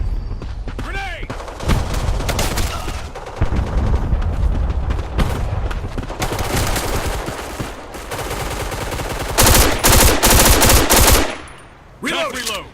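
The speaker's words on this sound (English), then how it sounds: "God, this gun shoots so fast." Rapid automatic gunfire from the online shooter game Black Squad, loud and dense bursts running almost continuously through most of the stretch, with a brief pause near the end, and a voice calling out faintly beneath the shooting.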